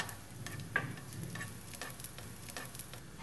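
Garlic sizzles with ginger in a hot pan, a steady soft frying hiss with a few light stir clicks, close and fairly quiet throughout.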